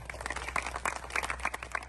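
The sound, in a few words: applause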